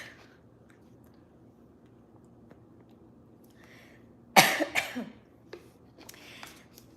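A person sitting on a love seat coughs in a loud burst of several harsh coughs, then a few softer throat sounds trail off in an otherwise quiet room.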